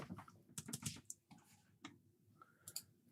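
Quiet typing on a computer keyboard at a workbench, uneven bursts of soft clicking keystrokes separated by short pauses, close and alone with no talk.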